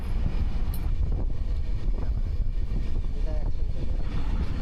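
The Howrah-CSMT Mumbai Mail train runs past green meadows, its steady, loud rumble filling the whole clip with constant rolling noise and wind buffeting.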